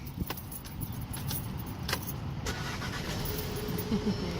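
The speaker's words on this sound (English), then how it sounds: "Now you can put the key on and turn." A key jangles and turns in the ignition of a manual-transmission car as the engine cranks and starts, a steady close mechanical noise with no talking.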